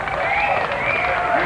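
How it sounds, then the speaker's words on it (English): A studio audience applauds and cheers for a performer at a magician's segment of a comedy talk show, a dense, steady wash of clapping and crowd noise throughout. "Give her a nice round of applause"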